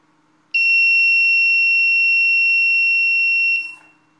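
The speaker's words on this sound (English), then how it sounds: "I'm regaining control again with a warning beep when I retract" A single long electronic warning beep from a DIY radio-controlled model's landing gear as it retracts sounds clearly for about three seconds, steady and piercing, then cuts off, followed by a faint click.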